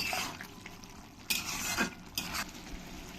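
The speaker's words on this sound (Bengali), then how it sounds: "ভালো করে নাড়িয়ে নাড়িয়ে কষিয়ে নিতে হবে" Mushroom masala stirred and sautéed in a pan: a soft background sizzle broken by several scraping stirring strokes of a spoon against the pan, close and fairly quiet, with no one speaking.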